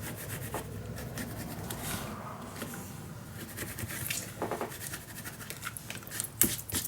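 A fingertip rubs excess glue off a thick paper piece of a lavender-themed craft mini album, making a soft, close, continuous scuffing and rubbing with a few small taps and no voices.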